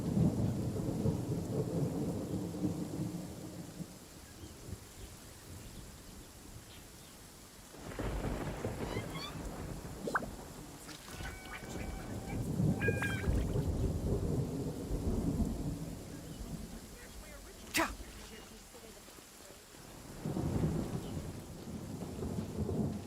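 Thunderstorm in the Genshin Impact desert region: heavy rain hisses steadily while several rolling thunder rumbles swell and fade, with a few sharp cracks in between and no one talking.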